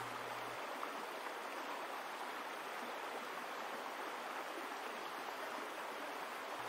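The Karakoyoum river in a Kyrgyz valley near Kara Koyun, Talas, flowing with reduced June water, a steady broadband rushing hiss of stream water, constant and fairly soft with no voices.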